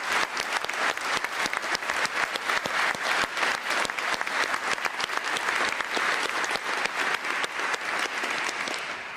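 A large audience at the Mansion House speech gives sustained, dense applause after a speech, many hands clapping together at a steady loudness for several seconds and fading slightly at the end.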